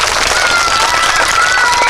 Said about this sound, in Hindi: चलो ठीक है, इस बच्चे के लिए ताली बजाइए आप सभी।